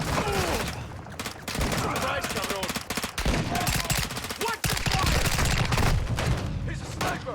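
Dense automatic gunfire from the video game Call of Duty Modern Warfare II: rapid bursts of shots and loud cracks crowd together continuously for several seconds, with a voice talking faintly underneath.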